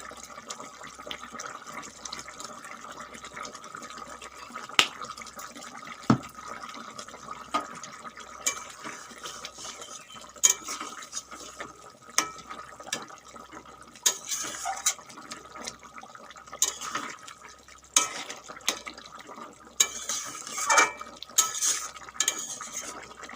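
Aloo phulkopi, a cauliflower and potato curry, simmers in a pan with a quiet bubbling. Spoon scrapes and clinks against the pan come at irregular intervals and grow busier toward the end.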